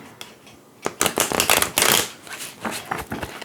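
A deck of oracle cards is shuffled by hand, with quick rustling riffles and clustered flicks of card edges, close and fairly quiet, in bursts over about three seconds.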